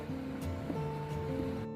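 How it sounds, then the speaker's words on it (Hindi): An electric water pump motor running to fill drinking water at home, a steady humming whine with a few shifting tones and light rattling, continuous and fairly close. "अभी मोटर चला रखी मैंने पानी की, तो पानी भरेंगे अभी पीने का"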